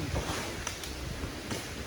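Wind gusts across an open farm field, buffeting the microphone in a steady broadband rush with a few sharper bursts.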